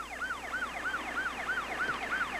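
Ambulance siren wailing in a steady repeating rising-and-falling cycle, loud and continuous with no voices.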